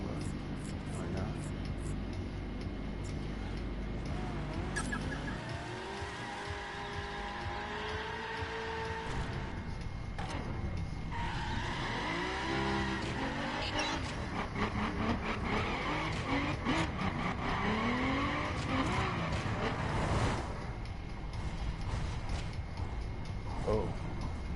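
Racing-game dragster revving and skidding in The Crew as its tires squeal in a burnout to warm up and grip, rising and falling engine whines layered over steady tire noise for the whole stretch.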